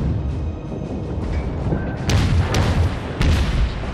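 Naval gunfire in World of Warships: a steady low rumble of ship guns, then a few sharp, heavy cannon blasts land in quick succession near the end, each with a booming tail.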